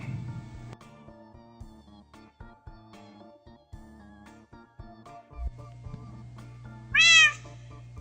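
A cat meows once, clear and fairly loud, inside the video game Minecraft, set against a soft background of quiet game music and small clicks.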